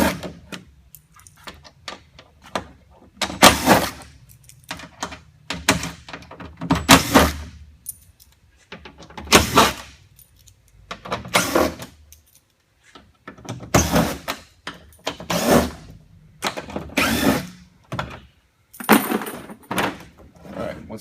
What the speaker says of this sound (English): T15 and start popping them off.